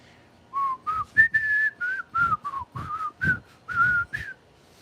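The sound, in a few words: person whistling a TV theme tune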